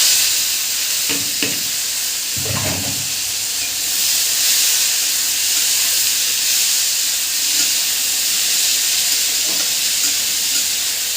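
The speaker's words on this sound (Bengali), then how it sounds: "পেঁয়াজগুলো এইভাবে বেশ কিছুক্ষণ ভেজে নেব ভাজা ভাজা হয়ে যাবে" Onions fry in oil in a pan for a mutton dish, a continuous loud hissing sizzle with a few stirring scrapes and knocks near the start.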